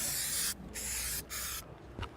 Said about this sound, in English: I'm gonna spray paint it.